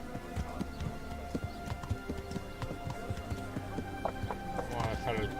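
Horse hooves clip-clopping at a steady riding pace in the medieval game Kingdom Come Deliverance, a rapid, fairly close run of hoofbeats over a constant layer of game ambience.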